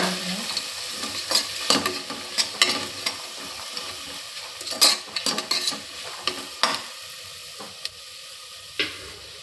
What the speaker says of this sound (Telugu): వేసిన తర్వాత ఇదంతా ముక్కలన్నీ బాగా కలిపేసుకోవాలి.